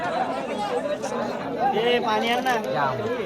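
Dense crowd chatter fills the air at a bullock cart race in Anjap, many overlapping voices murmuring steadily and fairly close throughout.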